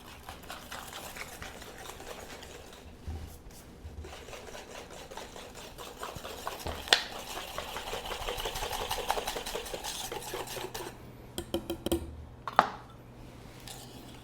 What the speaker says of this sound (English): Just give it a good whisk.